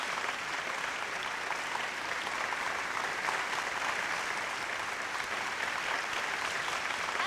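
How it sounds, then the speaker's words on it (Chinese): An audience claps steadily for a child introduced to perform a Miao dance, the applause dense and sustained at an even level from start to finish. "大家掌声欢迎！"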